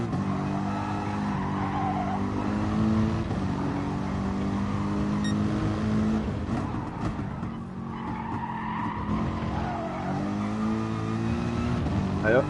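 Mercedes-AMG race car engine in a racing video game, a sustained droning note that rises and falls through the gears, with tire squeal in the corners and a voice talking over it.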